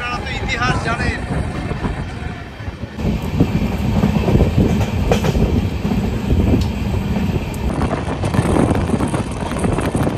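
The 13125 Kolkata Sairang Express rolls through Palashi station, heard from on board as a loud, continuous rumble and clatter with wind noise that holds for the whole stretch.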